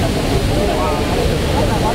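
Water pours from an inspection discharge at Yagisawa Dam in a loud, continuous roar of rushing, spraying water. The sound is heavy at the low end and fills the space up close without letting up.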